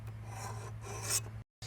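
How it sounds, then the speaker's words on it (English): A hand file rasping along the edge of a lawn mower blade, heard up close as a continuous gritty scraping stroke that stops abruptly near the end. "you are going to want to file that edge down"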